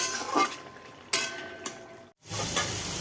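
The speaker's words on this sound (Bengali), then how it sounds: "এখানে হচ্ছে করলা ভাজা দুটো করলা ছিল তাই এই যে ভাজা করে নিচ্ছি" Steady sizzling of bitter gourd frying in a pan, with a few sharp stirring scrapes and a brief pause before the crackle resumes.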